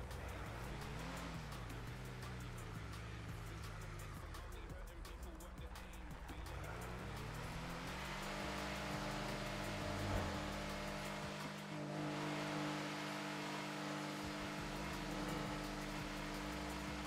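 A small car driving past in a NoPixel GTA roleplay game, its engine tone sweeping up and down with tire noise and a light skid, loud and continuous under a steady music bed.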